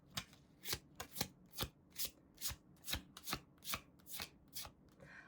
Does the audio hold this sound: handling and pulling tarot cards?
yes